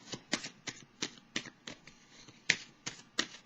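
Tarot cards riffled and shuffled by hand, a rapid series of crisp, close flicks and slaps at an uneven rhythm, fairly quiet with no talking.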